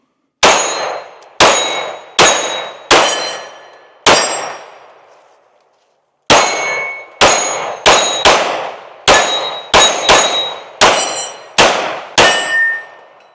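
Ruger RXM pistol firing a string of sharp, loud gunshots, first four spaced shots, a pause, then a faster run of about ten more with ringing decay, no talking.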